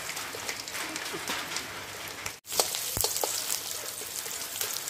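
Green chilies and chopped garlic frying in a pan give a steady close sizzle and crackle, with a brief drop near the middle before the hiss resumes, and no talk over it.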